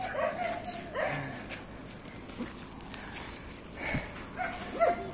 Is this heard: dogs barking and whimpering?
yes